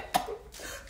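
Two short, sharp coughs about a beat apart, close and abrupt, over a quiet room.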